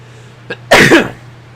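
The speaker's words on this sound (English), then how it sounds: "Hang on, I gotta sneeze." A single loud sneeze, preceded by a short sharp intake of breath, close and alone.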